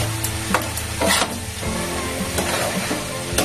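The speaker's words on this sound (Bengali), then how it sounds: "নাড়াচাড়া করে নামিয়ে দেবো" Close sizzling of fried morola fish with bottle gourd in a pan, with scraping stirs and soft knocks of a utensil against the metal.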